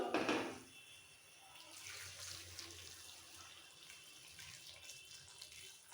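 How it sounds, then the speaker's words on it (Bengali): Hot water is poured from close by onto spiced vegetables for a coconut sukto. It starts with a sharp splash, then settles into a softer, steady stream that trickles and gurgles into the pot. No one speaks. "মশলা দিয়ে এবার দিয়ে দিচ্ছি গরম জল"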